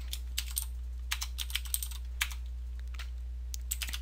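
Computer keyboard keys tapped in short irregular bursts while writing Minecraft Forge mod code, soft, close clicks alone over a steady low hum.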